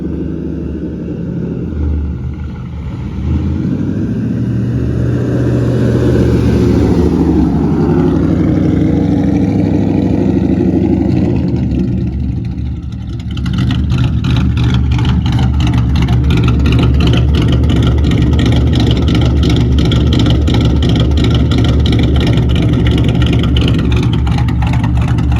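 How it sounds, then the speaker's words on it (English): A cammed Ford Mustang GT engine revs repeatedly, rising and falling in pitch, then settles into a loud, choppy, loping idle with a rough rhythmic pulse for the remaining stretch. "So yes, you heard that right. This is a Mustang GT with cams, just like the Bullet."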